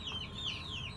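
Chickens in a chicken coop cluck and chatter softly in the background, a steady low murmur of farmyard fowl.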